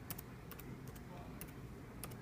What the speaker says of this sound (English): So of course I'm typing in my Scentsy website.